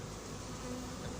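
A swarm of honeybees hums continuously inside a cardboard box, a dense, steady buzz heard up close with no voices over it.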